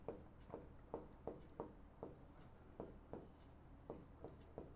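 Scratchy strokes of a pen or chalk on a board, writing out a polynomial formula by hand in a quiet classroom, coming in short repeated bursts at an even pace, fairly faint.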